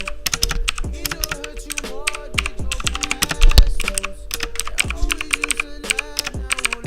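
Close, rapid clacking of a budget mechanical gaming keyboard, with dense bursts of keystrokes and a few heavier thocks, with no talking.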